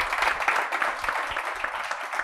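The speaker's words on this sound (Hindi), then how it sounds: "मैं मतलब एक बार ताली बजाई सर के लिए।" An audience at a youth conclave claps for a blood donor, a dense, lively burst of many hands clapping together, close and fairly loud, lasting a couple of seconds.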